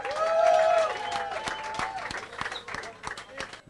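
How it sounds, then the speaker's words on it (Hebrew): Audience applause for Sarah Sinai at a tribute show, a dense burst of clapping swelling quickly then thinning into scattered claps, with a voice talking over it. "מחיאות כפיים לשרה סיני"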